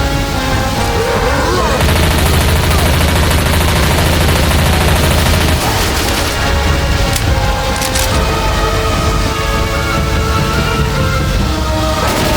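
Gunfire from several weapons pours into the Tank during the Hard Rain campaign of Left 4 Dead 2, a dense, continuous rattle of shots over loud, cluttered game noise, with no talk.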